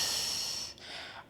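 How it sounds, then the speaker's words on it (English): Heavy breathing during a gym breathing exercise, a close, loud airy exhale that trails off, followed by a softer breath. "you can hear me breathing"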